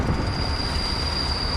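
A train rolls along on the rails in the Workers & Resources: Rail Republic video game, a steady rumbling wagon noise with a thin high squeal running throughout, continuous and fairly loud.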